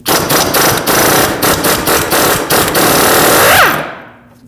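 An impact wrench rattles off a 19mm nut from a front lower ball joint on a 2006-2015 Lexus IS250, a loud, close, rapid hammering in bursts that winds down and stops near the end.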